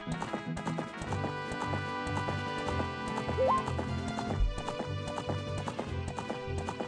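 A horse gallops in The Legend of Zelda: Ocarina of Time, with steady rhythmic hoofbeats over the game's continuous background music.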